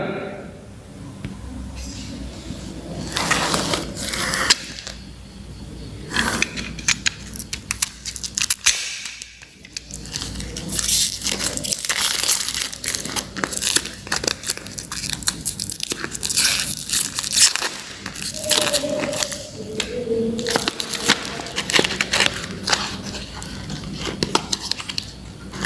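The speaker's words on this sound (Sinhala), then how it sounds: "මම දැන් මේක විවෘත කරලා වෙල්ඩින් කූරක් එළියට ගන්නවා" Cardboard box of mild steel welding rods being opened and a rod pulled out, giving scattered crinkling, crunching and tapping handling noises close by, with some voice underneath.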